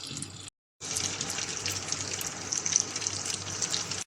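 Chicken pieces for butter garlic chicken go into hot oil in a pan, and after a brief silence a loud, steady frying hiss starts abruptly and continues close by without speech.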